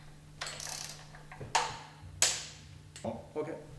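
Greased screws being tightened to torque on the cover of a Flygt submersible wastewater pump, heard as several close, sharp ratcheting bursts separated by short pauses over a faint steady hum.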